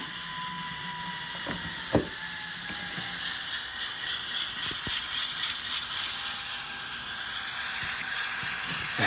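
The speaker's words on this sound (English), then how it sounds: "Just shove the locomotive, shove the car, whatever it takes to get that thing uncoupled." N scale GE C44-9W model locomotive shoving a boxcar to uncouple it at a paper mill siding, giving a faint steady mechanical whir and gear rattle with one sharp knock of couplers.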